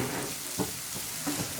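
Restaurant-style egg fried rice sizzles steadily in a hot pan while being stir-fried and mixed, with two brief scraping tosses of the spatula over the continuous frying hiss.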